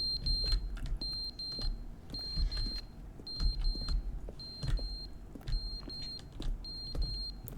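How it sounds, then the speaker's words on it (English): An indoor fire alarm beeps in a steady repeating pattern of short high-pitched tones, moderately loud over a low rumbling background. "Oh, it's the fire alarm."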